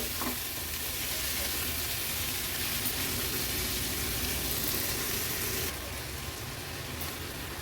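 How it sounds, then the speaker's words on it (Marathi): Sprouts and salt being stirred into masala in a pan for an Agri-Koli style Maharashtrian veg dish, a steady broadband sizzle with soft scraping that holds level throughout, slightly thinning near the end, no talking. "व्यवस्थित भाजी मिक्स करून घ्यायची आहे"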